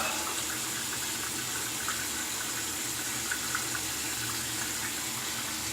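Tap water runs steadily into a sink while a razor is rinsed after a wet shave, a constant close gushing hiss with no talking.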